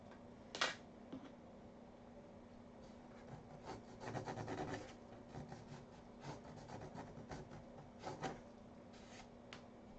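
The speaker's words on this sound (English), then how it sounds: "Some detail sanding" Quiet, scratchy rubbing of sandpaper by hand on wood in uneven bursts during detail sanding, with a few sharper taps, close by and without any talking.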